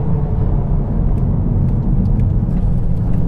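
A 2019 Ford Focus ST weighing about 1.5 tons drives on a public road, its engine and road noise forming a loud, steady low rumble heard from inside the car without talk.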